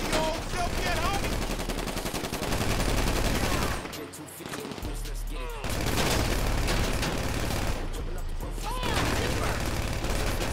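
Sustained heavy gunfire in Grand Theft Auto V during the Dr. Dre contract mission, a relentless dense barrage of overlapping shots with brief lulls, layered over talk and game sound.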